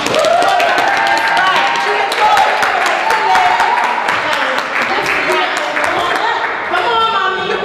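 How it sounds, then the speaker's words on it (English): A warm round of applause from an open-mic audience welcoming a performer, dense and steady clapping sustained for several seconds, with voices and cheering mixed in. "A very warm, welcoming round of applause for my girl, Charlestine."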